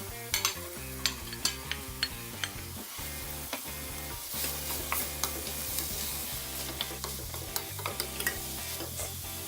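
Mushrooms stirred into a pan with chicken, a steady sizzle of frying underneath repeated scraping clicks of a utensil against the pan, close and continuous.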